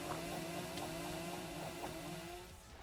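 A chainsaw power in a video game produces a continuous buzzing, revving engine drone with shifting pitch and scattered impact sounds, fading slightly toward the end.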